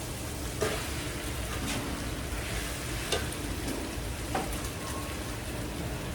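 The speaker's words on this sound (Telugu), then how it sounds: "ఫ్రై అయిన తర్వాత ఇప్పుడు చికెన్ వేసుకుంటాం." Chicken goes into a pan of fried onions for a chicken dum biryani and fries with a dense, continuous sizzle, punctuated by a few soft stirring knocks.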